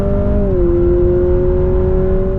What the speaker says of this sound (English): on top of that adds in Civic Type R engine noises